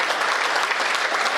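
A crowd at a Hindi poetry recital breaks into a brief, dense burst of clapping, a loud continuous wash of many hands with no voice over it.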